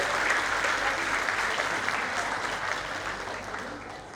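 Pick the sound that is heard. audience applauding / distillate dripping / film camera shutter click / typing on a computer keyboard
audience applauding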